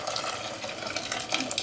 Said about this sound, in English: I'm going to add some hot boiling water